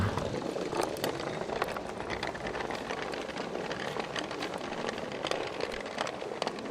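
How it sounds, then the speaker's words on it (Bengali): Heavy rain pours steadily as a dense, continuous hiss with scattered sharper drop patters, a constant wash of sound with no voices, used as a sound effect in an animated horror story. "ঝমঝমিয়ে বৃষ্টি পড়ছে"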